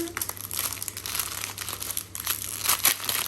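Crinkly plastic packaging of a diamond painting kit is unwrapped up close, with continuous loud rustling and crumpling and sharper crackles near the end.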